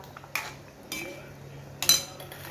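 Palak gatte dumplings go into a pan to heat, with a few sharp metallic clinks and scrapes of a utensil against the pan, spaced apart over a quiet background.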